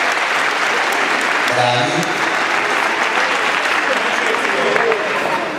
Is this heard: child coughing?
no